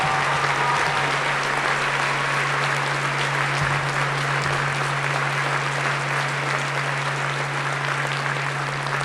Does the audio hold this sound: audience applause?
yes